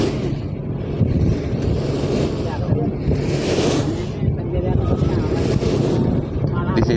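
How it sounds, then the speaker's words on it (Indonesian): Wind rushes over the microphone at the front of a moving boat, a loud buffeting roar that swells and eases in gusts with a low hum beneath, while someone talks over it. "Di sini saya berada di depan kapal dan ya cukup segar anginnya ya."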